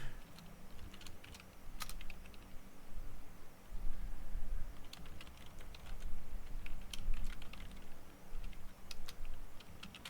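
Typing on a computer keyboard while programming: bursts of rapid key clicks with short pauses between them, close and clear, with no talking.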